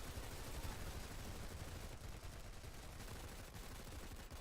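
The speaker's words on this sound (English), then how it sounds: "make sure that you lay down suppressive fire" Game gunfire lays down suppressive fire on a staircase, a continuous dense rattle of rapid automatic shots, fairly quiet and without speech.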